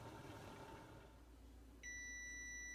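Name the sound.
kitchen timer beeping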